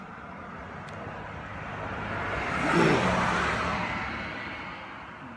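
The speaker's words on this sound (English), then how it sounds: "Here comes a car." A single vehicle passes at an underground coal mine, a broad rushing rumble that swells to a peak midway and fades away, with no talk.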